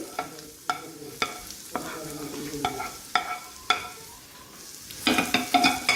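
A spoon scrapes and stirs ingredients roasting in sesame oil in a pan, with irregular knocks and scrapes every half second or so and a light sizzle, a quick flurry of clinks at the end.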